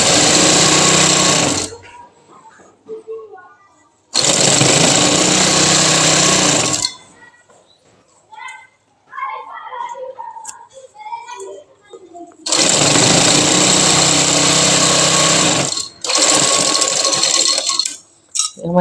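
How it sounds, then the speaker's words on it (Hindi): Sewing machine stitching a decorative design onto trousers, running in loud sustained bursts of several seconds each, separated by quieter gaps with faint handling sounds and talk. "उसके ऊपर स्टेच पे सिलाई करेंगे और ट्राउज़र रेडी करके आपको दिखाएंगे।"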